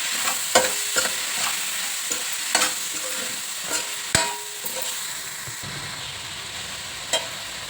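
Chopped tomatoes and coriander powder fry in a pan for a cauliflower-tomato curry, giving a steady sizzle broken by several sharp clinks and scrapes of a spoon stirring against the pan, with no talking.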